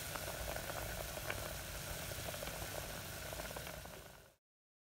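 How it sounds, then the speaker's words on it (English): A pot of stew boils on a home stove while yam is being cooked, giving a steady low bubbling and sizzling hiss with faint pops, continuous and moderately quiet before cutting off abruptly. "I want you guys to listen to the boiling though."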